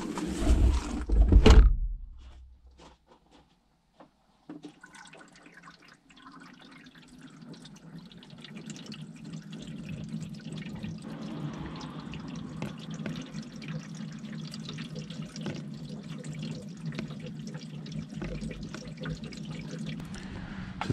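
Water poured down the roof channel of a Ford Focus mk3, over a split seam that leaks into the boot, opens with a brief loud splash, then trickles and drips steadily for a long stretch.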